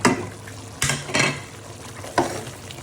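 Spice masala with meat, coriander, turmeric and cinnamon fries in a pot, a close sizzle broken by several sharp scraping stirs of a spoon.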